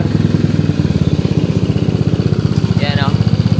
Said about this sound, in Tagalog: Bumalik na yung tunay na tunog ng racer.